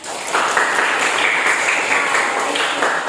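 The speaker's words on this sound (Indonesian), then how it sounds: "berikan tepuk tangan untuk kedisiplinan kita semua hari ini" Sustained applause from a group gathered in a classroom-style session, dense and steady throughout at a fairly loud level with no voices.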